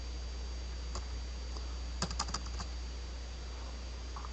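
Faint clusters of computer keyboard keystrokes while entering CSS code, a single tap then a brief quick burst of clicks over steady low hum and background hiss.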